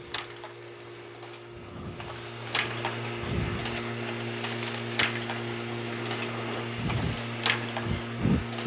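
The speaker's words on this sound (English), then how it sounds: "So I'm going to go ahead and start the machine." A B+H Phillipsburg 5000 envelope inserter running at slow speed gives a steady mechanical hum with low rhythmic thumps and periodic clicks and clacks as envelopes feed and are stuffed, close and moderately loud.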